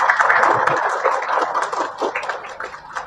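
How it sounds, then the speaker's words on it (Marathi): Audience at a book launch ceremony for a cyber security book applauds steadily, a dense wash of clapping that stays fairly loud throughout and eases slightly toward the end. "आपण जोरदार टाळ्या."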